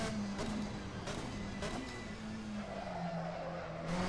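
A race car engine in the Assetto Corsa driving game runs at low revs, a steady, fairly quiet drone with tire squeal and skidding noise layered over it, no talk.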